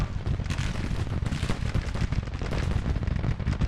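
Massed Civil War-era rifle fire from a Grand Tactician battle near Washington, a dense distant crackle of overlapping shots and booms rolling on without pause.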